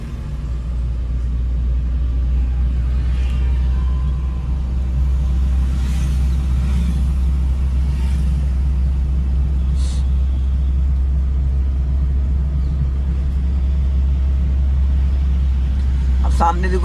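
Car rolling along in second gear during a driving lesson, a steady low engine rumble and road noise throughout, with an instructor's voice speaking over it now and then.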